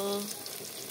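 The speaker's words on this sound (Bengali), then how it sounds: "বন্ধুরা দেখো, আমার বেগুন ভাজাও বসিয়ে দিলাম।" Eggplant slices frying in a pan, a brief, steady, close-up sizzle and crackle that follows a short tonal sound at the start.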